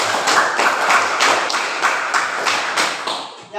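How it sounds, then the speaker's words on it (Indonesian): A classroom group claps in unison, a steady rhythmic series of about eight or nine sharp, even claps, fairly close and loud, with little talk. "Oke, mari tepuk tangan untuk"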